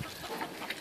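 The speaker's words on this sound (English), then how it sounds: "chickens." Chickens on a farm in Portugal clucking in a short, continuous burst of soft, close calls with no talking.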